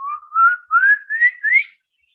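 Swainson's thrush song: a clear, isolated series of five rising whistled phrases, each slurring upward, spaced evenly over under two seconds against silence.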